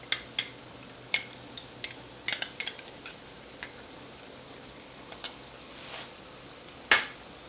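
Spoon stirring a sloppy joe mixture with mustard and ketchup in a pan, giving sparse, quiet scraping clinks and taps at irregular intervals, close and fairly faint, with no talking.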